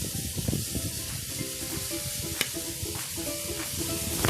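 Potatoes sauté in a pan for lumpiang sariwa, a loud, dense sizzle close to the mic with stirring scrapes and a sharp tap of the utensil, no talking.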